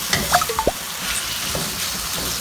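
Pork belly stir-fried with sauce in a pan, giving a few quick scraping stirs and clatters near the start over a steady low sizzle that continues to the end.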